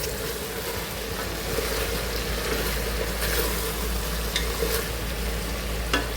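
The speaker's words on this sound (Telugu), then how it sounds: "ఇప్పుడు ఇందులోకి టమాటోస్ వేసుకుందామండి టమాటోస్ వేసాక ఒకసారి బాగా కలుపుకుందాము" Tomatoes are stirred into onions frying in a pan, making a continuous close sizzle broken by occasional scraping clicks from the spoon.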